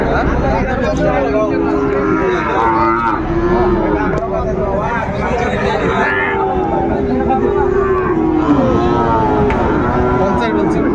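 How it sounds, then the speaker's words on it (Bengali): A Sahiwal bull calf moos repeatedly in long, drawn-out calls over a loud, constant babble of people talking at a crowded cattle market. "শাহিওয়ালার ষাঁড় বাচ্চা আমরা দেখছিলাম"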